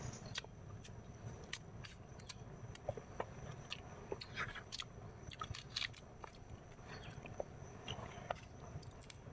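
Someone quietly chews and bites into sour food, with small crunchy clicks and soft mouth noises repeating close by against a low background hum.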